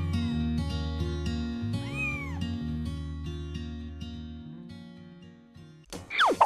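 Kittens meowing with high, rising and falling cries over a steady background of music, loud and close, with a sharper burst of mewing at the end.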